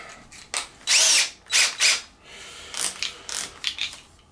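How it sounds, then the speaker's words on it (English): A power drill bores out an existing pilot hole during repair work on a Traxxas X-Maxx RC truck, in several close, loud whirring bursts of varying length separated by short pauses, with no talking. "Let's just try to drill it out"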